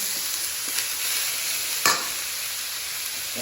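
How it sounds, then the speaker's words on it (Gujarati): Potato khichdi stirred in a pan, a constant close sizzle with a couple of soft scrapes and one sharper knock of the spoon near the end, no voices. "મસ્ત એને હલાવી લઈશું"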